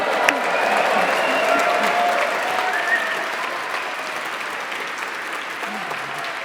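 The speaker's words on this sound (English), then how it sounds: "I'd like to hear lots of cheering and lots of applause to say a happy 30th to the web" Loud audience cheering and applause at a Science Museum celebration of the World Wide Web's 30th anniversary, dense clapping mixed with whoops and shouts that holds strong, then eases slightly toward the end.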